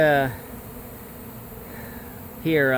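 Honeybees buzz loudly and close during a mobile home bee removal in Lakeland, Florida, two short passes with fainter humming in between.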